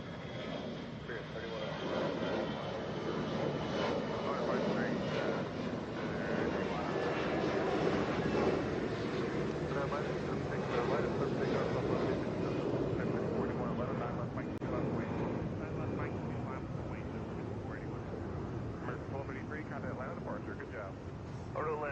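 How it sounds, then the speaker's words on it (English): Airbus A321 jet airliner at Atlanta airport, a steady broadband engine roar held loud and unbroken for the whole stretch, with talk over it. "This is an A321 headed to Milwaukee."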